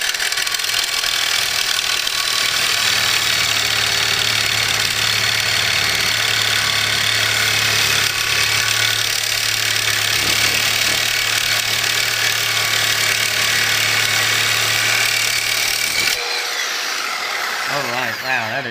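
A reciprocating saw fitted with a Fire Rescue blade cuts continuously, a harsh, loud, steady rasping roar lasting about sixteen seconds before it stops abruptly.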